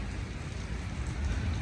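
Steady heavy rain pours down during a hailstorm in the UAE, a dense unbroken hiss with no voices over it.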